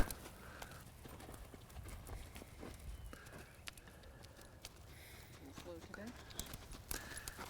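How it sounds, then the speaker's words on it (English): Horse hooves trotting in a riding arena, a steady rhythmic clip-clop of footfalls while a rider is coached over them. "let's go ahead and pick up a trot"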